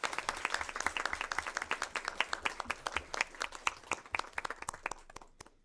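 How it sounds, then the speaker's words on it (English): An audience at a school board meeting breaks into applause, a steady round of dense clapping that gradually thins and trails off toward the end. "Let's give them a hand of applause."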